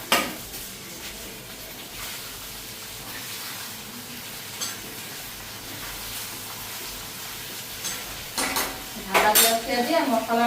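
Okra and eggplant fried and stirred in a pan for a home breakfast, with a steady low sizzle, a utensil scraping and clinking against the metal pan, and louder clattering near the end.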